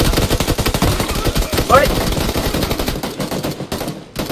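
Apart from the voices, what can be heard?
Gunfire in PUBG Lite video game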